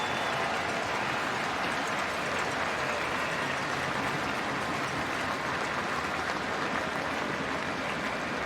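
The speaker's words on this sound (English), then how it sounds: "a standing ovation from the crowd here for both of these players" A packed stadium crowd at a CFL West Semi-Final football game between Calgary and BC gives a sustained standing ovation, a dense, steady roar of applause and cheering with no break.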